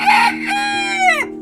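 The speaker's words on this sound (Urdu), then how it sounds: "مرغا بانگ دینے لگا۔" A rooster crows once, loud and close, a single drawn-out cock-a-doodle-doo that rises and then falls away at the end, heard alone.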